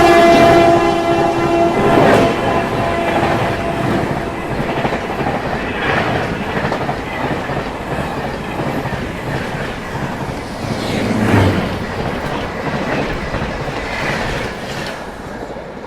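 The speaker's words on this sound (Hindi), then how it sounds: "वो देखिए पीछे फिर एक ट्रेन आ गई। बनारस सुपरफास्ट एक्सप्रेस नई दिल्ली से चल के बनारस को जाने वाली" Banaras Superfast Express, running from New Delhi to Banaras, passes close by with a loud steady rumble of rail wagons, clattering wheels and a brief horn at the start, continuing for the whole stretch.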